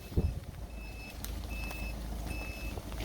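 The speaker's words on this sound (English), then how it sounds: "If it beeps, the bulb is working." A Citroen C4 Picasso's trailer light indicator beeps in a steady rhythm, four even tones spaced about half a second apart, over a low engine hum inside the car.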